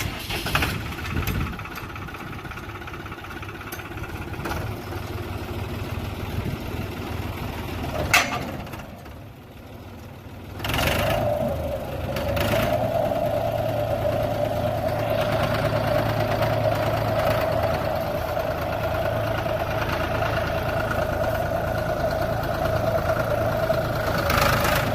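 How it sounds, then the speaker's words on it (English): A 2005 New Holland TN60A tractor engine cranks over and catches, then settles into a steady, loud diesel idle with a knocking rumble that runs on without a break. "Mike here's going to start it, and then we're going to kick on the cutter and then just drive it a little forward and reverse"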